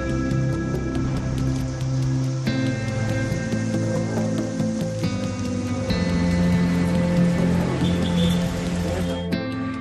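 Rain falls steadily in the hills during pre-monsoon showers, a continuous dense patter throughout over faint background tones.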